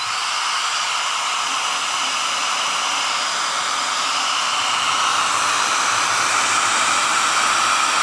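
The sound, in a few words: hair dryer running on a portable solar power station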